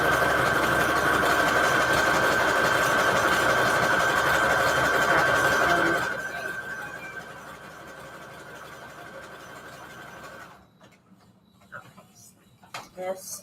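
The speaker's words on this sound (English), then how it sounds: "But first step is just sewing up a bunch of strips." Sewing machine stitching glitter Christmas scrap paper strips, a steady whirring drone with a high tone that runs loud, then drops quieter and stops, followed by faint handling clicks.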